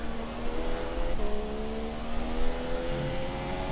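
Formula 3 race car engine in a racing video game on a Spanish circuit, revving steadily with a sustained mid-pitched drone and slight throttle variations, loud and continuous with no talk.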